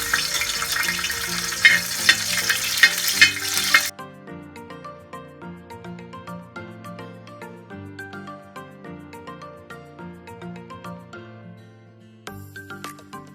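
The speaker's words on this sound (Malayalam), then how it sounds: "ഉണക്കമുന്തിരി വറുത്ത് മാറ്റാം." Raisins frying in hot ghee for Onam ada pradhaman, a steady close sizzle with stirring clinks, louder and brighter in the first four seconds, then softening under layered background music.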